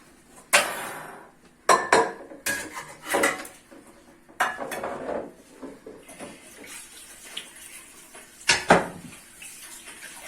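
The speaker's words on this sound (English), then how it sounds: "we want to wash a chicken." Whole chicken being washed in water while preparing maqluba, heard as scattered splashes, clinks and scraping in a sink or basin, with several sharper bursts across the stretch and no talking.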